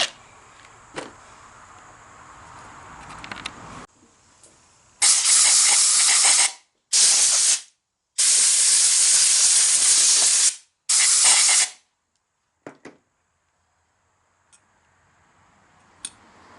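A Ryobi pressure washer sprays water in four loud, steady hissing blasts of a second or two each, separated by short silences, with faint clicks and handling noise before and after.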